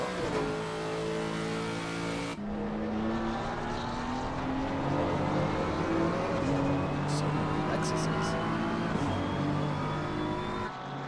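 Roaring race car engines in a racing video game drone steadily, their pitch rising and shifting as cars run close together, loud and continuous throughout.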